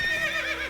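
Roach the horse in The Witcher 3 video game gives a brief, close, loud neigh with a wavering whinny, heard alone.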